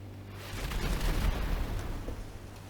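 Aircraft gunfire during a GTA plane dogfight comes as a dense, rumbling burst of rapid shots that swells in the middle and fades, alone without voices.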